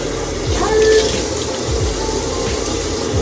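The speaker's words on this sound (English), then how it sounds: "Let me go ahead and wash my face." Water runs steadily from a bathroom tap into a sink while a face is washed, with splashing and dripping close by.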